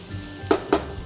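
Onion and green chillies fry in a pan for a tomato curry, a soft steady sizzle running underneath two quick, sharp clinks of a utensil against the pan close by.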